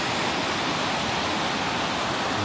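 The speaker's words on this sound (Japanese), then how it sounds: "白ひげのように見えることから白ひげの滝というみたいです" Shirahige Falls, a waterfall about 30 meters high in a Hokkaido gorge near Biei, pours in a loud, unbroken broadband roar, heard from close by with no other sounds.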